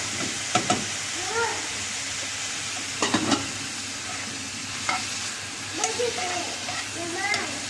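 Fresh spinach sautéing in a pan for spinach with vermicelli rice, giving a steady frying sizzle punctuated by several short stirring clatters, close and moderately loud, with a voice faintly in the background.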